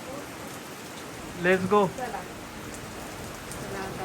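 Steady rain falling on a family road trip at Amba Ghat, a constant close hiss of drops throughout, with voices briefly talking over it midway.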